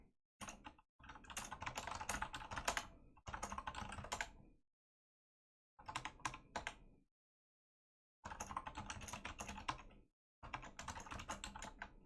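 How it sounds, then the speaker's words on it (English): Rapid typing on a computer keyboard in bursts of dense keystrokes separated by short pauses, close and fairly loud, no talking. "Yes, that is my keyboard."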